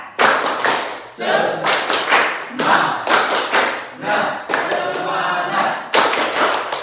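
A standing classroom of students performs the rhythmic 'tepuk semangat' clap, loud bursts of synchronized claps and slaps in short patterned groups with brief pauses between phrases, close and energetic.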